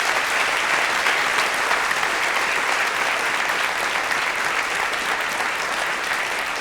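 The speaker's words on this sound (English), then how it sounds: "will you give Ray a huge round of applause?" A large audience at the Ci2019 intelligence conference gives Ray Kurzweil a loud, sustained round of applause, a steady unbroken wash of clapping from start to finish.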